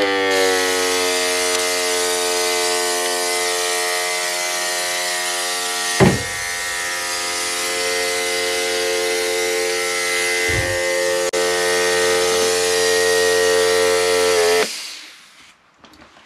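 A compact mini mister fogger runs in a pantry for pest treatment, a steady loud motorized buzz with a strong harmonic drone that holds unbroken for about fifteen seconds, with a couple of brief knocks partway through, before cutting off abruptly.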